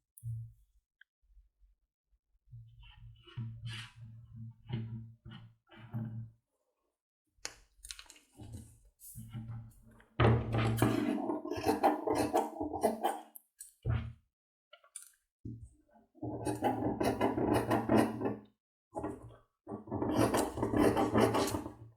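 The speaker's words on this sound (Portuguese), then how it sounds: "E aqui, para finalizar, eu vou cortar o pezinho da gola." Scissors cut fabric for the collar stand of a chemisier dress, making repeated rasping, crunching snips up close in bursts, with quiet pauses between cuts.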